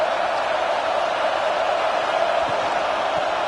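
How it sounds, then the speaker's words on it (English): Steady stadium crowd roar from the video game EA College Football 26, a dense, continuous wash of noise with no distinct voices standing out. "Listen to the crowd energy here in the early going."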